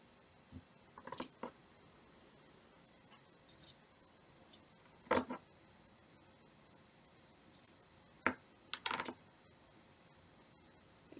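Scissors cut fabric for a no-sew tote bag, snipping in short separate bursts of a few crisp cuts each with quiet pauses between, close and alone with no talking.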